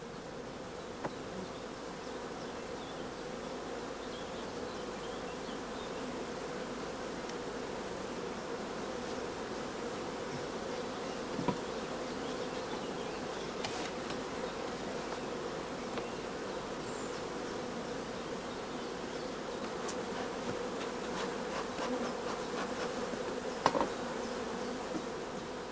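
Honey bees buzz steadily around a brood comb in a hive, a dense continuous drone of many wings with occasional louder passes close by.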